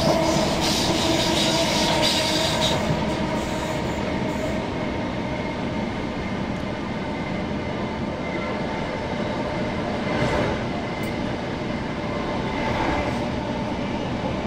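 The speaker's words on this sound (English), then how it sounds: "I'm taking a train that goes via the Blackheath Tunnel" Rail carriage rolling through the Medway area toward the Blackheath Tunnel, a steady loud interior rumble with rhythmic clickety-clack of wheels and occasional faint squeal, continuous throughout with no talking.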